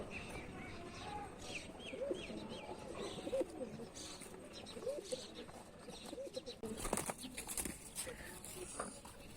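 A pigeon perched on a loft roost coos in repeated soft, low calls over a steady background hum, with a brief burst of wing-flapping rustling near the end.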